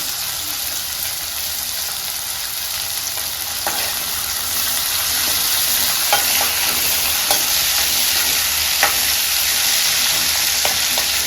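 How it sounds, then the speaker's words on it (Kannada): Ingredients fry in oil in a pan for saagu, a loud continuous sizzle with occasional sharp pops and stirring clicks, gradually growing a little more intense. "ಚೆನ್ನಾಗಿ ಎಣ್ಣೆಗೆ ಫ್ರೈ ಆಗಬೇಕು ಚೆನ್ನಾಗಿ ಫ್ರೈ ಮಾಡಬೇಕಿದೆ"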